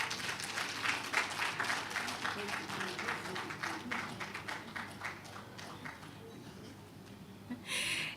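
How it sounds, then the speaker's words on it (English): Applause rises from an audience at a health awards event, loud and dense at first, then thinning into scattered claps as it fades, with a voice cutting in at the end. "Can we please make that applause bigger and louder?"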